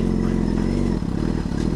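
Motorcycle engine runs hard with the back wheel spinning, a loud, close, steady throbbing drone with rattling mechanical clatter throughout.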